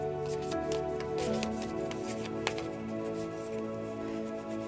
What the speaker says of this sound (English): Shuffle through the crystal mandala activation cards.